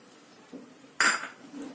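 A spoon mixes bread pakoda batter in a bowl, giving a soft tap and then one bright, close metallic clink against the bowl, with quiet between them.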